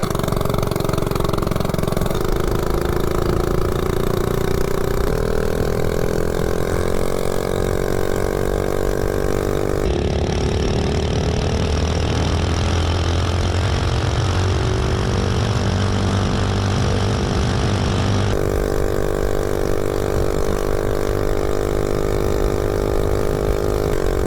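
A 98cc engine fitted with an aggressive cam, billet flywheel and 22-pound spring screams through a top speed run, its loud, close buzz rising in pitch as it accelerates, with shifts in tone partway through.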